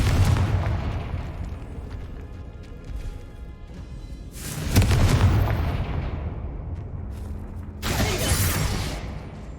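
Confringo spell blasts in Hogwarts Legacy, two loud fiery bursts roughly midway and near the end, each trailing off into rumbling debris over a steady background of game ambience.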